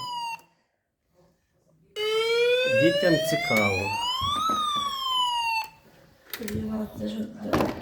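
Electronic siren built from a children's electronic circuit construction kit (Znatok, 208 circuits), loud and close, its pitch sweeping up and down for several seconds after a brief remark, with speech and a short beep near the end.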